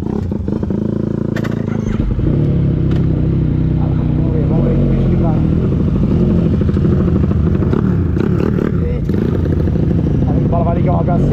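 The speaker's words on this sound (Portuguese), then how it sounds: "E eu vou aqui na motoca aqui filmando pra vocês, certo?" A small 70cc motorcycle engine runs loud and close while riding on a dirt road, a constant rough drone with a person talking over it.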